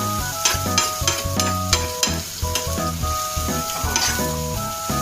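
Onion and tomato fry in a pan for a masala omelette, giving a busy, crackling sizzle with stirring scrapes. Tonal notes ring over it throughout, and no one speaks.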